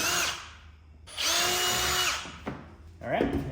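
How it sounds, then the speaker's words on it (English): A power drill whirs in bursts while boring holes in a part for an L5P Duramax truck, one short run, then a longer sustained spin, then a final brief burst with the motor winding down, recorded up close. "we can go ahead and drill these out"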